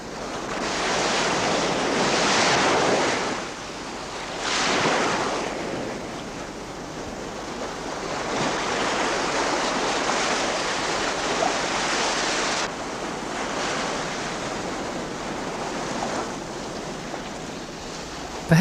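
Ocean surf on an island beach rolls in as broad, swelling washes of noise that rise and fall over several seconds, with wind buffeting the microphone throughout.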